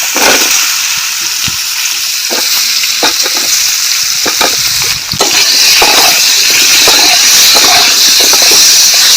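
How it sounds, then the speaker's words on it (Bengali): Potatoes frying in hot oil left over from frying rohu fish, a loud, close, continuous hissing sizzle with scattered crackles and a brief dip midway before it swells again. "এই তেলে আমি আলুটা দিয়ে নিচ্ছি।"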